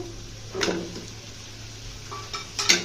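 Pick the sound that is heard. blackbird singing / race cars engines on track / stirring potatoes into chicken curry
stirring potatoes into chicken curry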